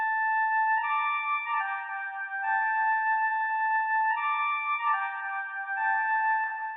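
A bright synthesized flute plays a steady, simple melody of long held notes, clean and even, with no other instruments or voices.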